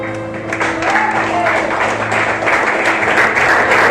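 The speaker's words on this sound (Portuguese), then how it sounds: "Vamos aplaudir o Senhor" Applause from a church congregation during a Sunday worship service, steady and loud clapping from many hands filling the room, with a sustained musical tone humming underneath.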